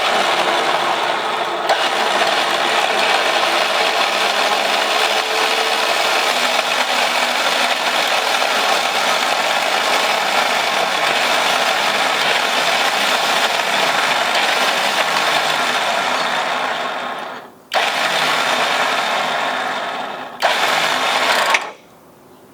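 A Warn 8274 winch, rebuilt after breaking, winds in with a steady loud mechanical whir that runs unbroken for about seventeen seconds, then cuts out and restarts in two short bursts near the end.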